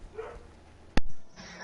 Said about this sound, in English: That's a neighbor's dog, can't do anything about it.